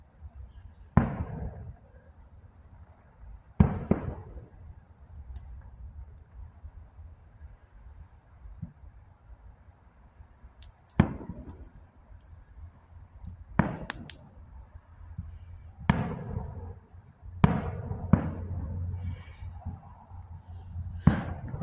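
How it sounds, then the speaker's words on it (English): Fireworks go off at night from across the area: scattered sharp pops and booms, roughly a dozen irregular bursts, heard at a distance over a low steady background hum. "Fireworks going off there pretty"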